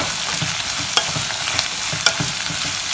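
Four sliced onions being sautéed in a pan for pepper chicken: a close, continuous frying sizzle with periodic stirring scrapes and a couple of sharper utensil clicks.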